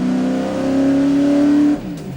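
A NASCAR Sprint Cup race car at Michigan drones loudly with a steady engine tone that then drops off, its pitch sliding down as the engine is cut near the end.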